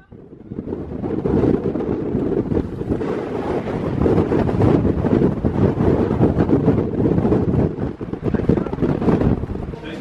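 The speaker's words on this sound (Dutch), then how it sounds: "Het waait zo hard hier." Strong, cold wind in Monument Valley blasts across the microphone as a steady, loud, rough rumble and buffeting roar that lasts throughout.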